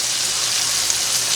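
Pork chops dredged in flour cook in a pan with a steady, even sizzle and crackle of frying, close and continuous with no talk over it.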